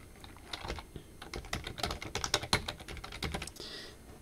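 Rapid typing on a computer keyboard, a quick irregular stream of close, crisp key clicks lasting a few seconds with no voices.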